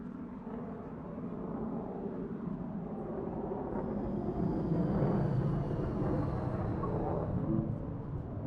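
An aeroplane passes overhead as a low, broad roar that swells gradually toward the middle and eases off, distant and steady with no talking.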